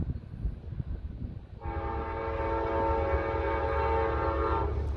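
A southbound freight train passes and sounds its horn: a loud, sustained multi-tone blast starts partway in and holds over the deep rumble of the locomotive, heard outdoors from close by with no talking.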